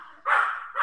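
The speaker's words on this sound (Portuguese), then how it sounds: "vou pedir para tirar o meu cachorrinho daqui" A small pet dog gives a single short, sharp yip close by, loud and alone.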